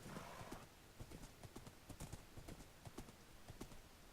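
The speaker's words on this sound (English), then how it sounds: "did I end up with a pretty good horse here?" A horse galloping in Minecraft gives a steady, rapid clip-clop of hooves that runs through the whole clip, moderately loud and with no talk over it.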